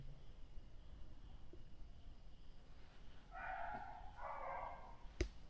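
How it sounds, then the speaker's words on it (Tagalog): A neighbour's dog barks in the distance at a house, two or three faint, muffled barks over a steady background hiss, with no one talking. "So may aso ang kapitbahay guys"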